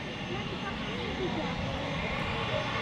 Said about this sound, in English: We've also got a Scandinavian taxiing out as well.